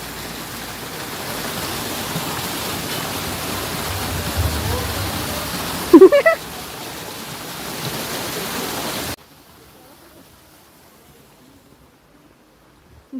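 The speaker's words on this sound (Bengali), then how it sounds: "ঝর্ণার আওয়াজটা কি সুন্দর লাগে" A waterfall at Rock Garden in Darjeeling gives a steady, close rushing roar that runs for about nine seconds before dropping abruptly to near quiet.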